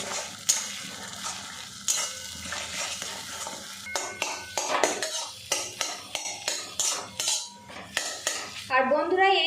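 Spatula and utensil clatter against a pan while egg batter is scrambled into soft, popcorn-sized bhujia curds. The scraping and knocking strikes are irregular and fairly close, and a faint sizzle runs underneath.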